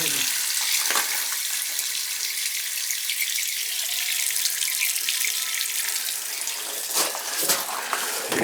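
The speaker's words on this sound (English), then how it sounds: "It's not going to hurt if I dump a little water out" Water pours steadily out of a leaking boiler pressure relief valve onto a dirt floor, a loud continuous rushing splash lasting throughout with slight surges near the end.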